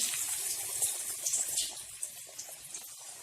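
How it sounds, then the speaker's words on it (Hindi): Chicken pieces slid into hot oil for a Hyderabadi wedding-style chicken fry, giving a steady bright sizzle with soft crackles and pops, close and moderately loud, with no talking. "तेल में हम धीरे से चिकन के पीसेस डाल देते हैं।"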